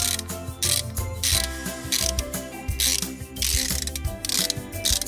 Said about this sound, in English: I love my socket wrench.